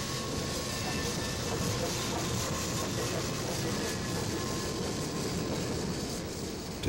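A train runs along rail lines into a London station with a steady, loud rolling roar and faint rhythmic rattling of the wheels, sustained without a break for several seconds.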